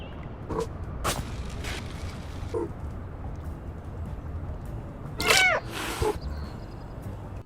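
A cat meows in a cozy Nintendo Switch video game. One clear, short meow arrives late among soft scattered clicks and taps in an otherwise quiet scene.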